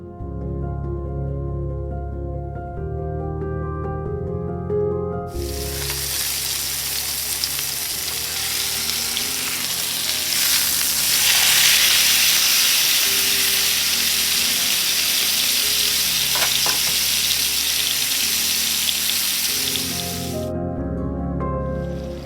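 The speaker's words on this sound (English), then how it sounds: "I'm going to saute those in the same pan that I cooked the steak in." Chopped onion, bell pepper and mushroom hit a hot pan used for porterhouse steak, bursting into a loud steady sizzle that holds for about fifteen seconds, with stirring and gentle background music around it.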